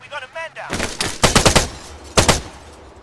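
Machine gun fire in the ArmA 3 military video game: rapid bursts of automatic gunshots, a sustained string followed by a shorter burst, loud and close, after a short voice at the start.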